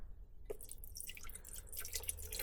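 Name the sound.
water poured into measuring cup for rice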